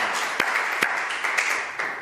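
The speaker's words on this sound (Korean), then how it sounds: "박수 환영하겠습니다" Church congregation at a Sunday worship service clapping to welcome a couple, a steady patter of many hands with a few sharper claps, moderately loud and without talking.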